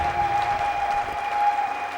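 A church congregation applauding loudly and steadily throughout, a dense wash of clapping with a sustained tone running beneath it.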